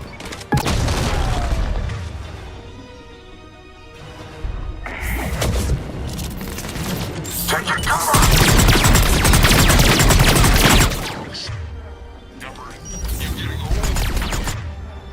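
Gunfire and heavy explosions in the video game Mass Effect 3, loud bursts of shooting and booming impacts coming in waves with brief lulls, someone talking between and over the combat.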